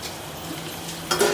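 Chopped onion, ginger, garlic, green chili and coriander seeds fry in a pan of crab curry being made Malvani style, a steady close sizzle that swells louder and brighter near the end as the mix is stirred.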